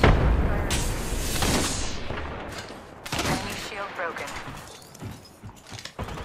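Video game gunfire as rapid overlapping volleys and shots, loud at the start and returning in bursts, with a voice speaking over the shooting.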